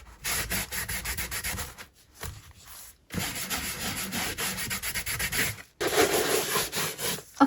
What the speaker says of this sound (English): I'll just quickly do the wax on the outside because I want the same look.